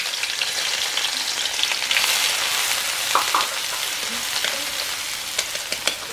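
Shallots and garlic frying in a hot pan for Thai-style sauced snails, a loud continuous sizzle with occasional stirring scrapes and spits, no talking.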